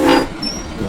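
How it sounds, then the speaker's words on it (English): Brief toot of a miniature train's whistle blown to warn of a crossing, a short tonal burst at the start fading into rolling rail and wagon noise. "I've got a whistle up here to warn people that we're coming and are crossing"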